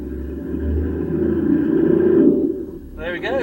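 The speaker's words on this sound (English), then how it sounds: "my first time driving a Land Cruiser" Toyota Land Cruiser 76 diesel with glow plugs being driven, a close low engine rumble that swells and then fades, with a voice speaking at the end.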